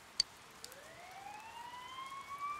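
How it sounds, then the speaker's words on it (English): In Persona 4 Golden, a police siren wails faintly nearby, a single rising electronic tone that climbs and holds, preceded by a couple of soft clicks and with no voices. "You hear sirens nearby."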